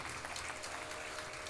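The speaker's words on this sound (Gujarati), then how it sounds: "એકવાર તાળીઓથી આપણે એમનું સ્વાગત કરીએ." An audience at a Shrimad Bhagavat katha gathering claps to welcome visiting Swaminarayan sect saints: a continuous, even patter of many hands, full and crowd-wide, with no single clap standing out.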